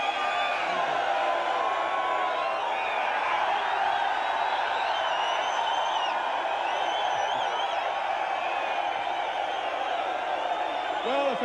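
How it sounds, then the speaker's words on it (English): Crowd at the 1993 Bathurst 1000 motor race podium cheers steadily throughout, a broad continuous wash of voices and whoops at moderate distance. "a fantastic cheer for Samantha and Carrie, the girls from Tui's bearing the garlands"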